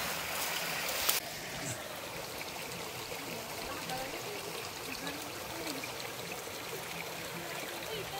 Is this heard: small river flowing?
yes